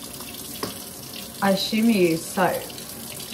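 Warm tap water runs steadily into a sink for cleaning a paint roller, a constant close splashing flow with someone talking briefly over it.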